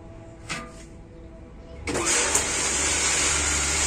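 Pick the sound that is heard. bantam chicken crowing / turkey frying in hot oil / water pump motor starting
water pump motor starting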